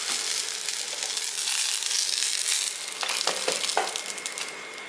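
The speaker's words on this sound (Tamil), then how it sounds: "கருவேப்பிலை லைட்டாக வறுத்தா போதும்." Curry leaves frying lightly in a pan with tamarind, a steady close sizzle running throughout, with a few sharper crackles and pops near the end.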